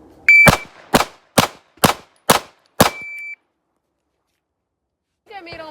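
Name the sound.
pistol shots fired in a shooting drill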